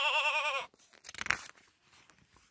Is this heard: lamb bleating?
yes